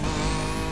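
Tires squealing as a Ferrari or Lamborghini drifts in the racing game The Crew Motorfest, with a loud, steady engine roar and a continuous high screech sliding upward in pitch, all crammed into a brief burst.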